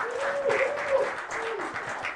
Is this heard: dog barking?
no